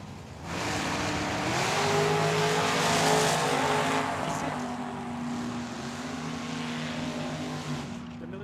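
Drag racing cars, among them Bradley Akers' Chevelle, launch at Tucson Dragway with a loud roaring burst of engines, revs climbing and shifting pitch as they pull away over several seconds.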